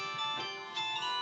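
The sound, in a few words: phone ringing during a broadcast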